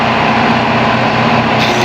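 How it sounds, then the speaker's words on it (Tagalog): An exhaust fan blower on an auxiliary fan unit runs with a loud, steady, even drone and a constant hum, unchanging from start to end. "Exhaust fan yan, exhaust fan."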